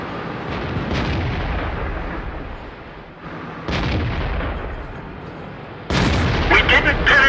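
Tank cannon fire in an armored-combat video game: a loud booming shot near the start and more heavy blasts later, with crackling impacts at the end, under radio-style team chatter.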